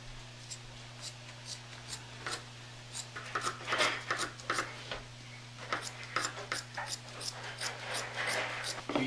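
Scissors snip through upholstery fabric for a chair in a series of soft, close crisp cuts and rustles, fairly faint over a steady electrical hum, with no talking.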